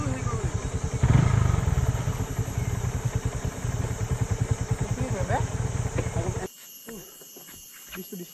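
Motorbikes ride a rough road to Theopai waterfall near Guwahati, Assam, their close, pulsing engine rumble running steadily with voices mixed in, then cutting off abruptly near the end to quiet background.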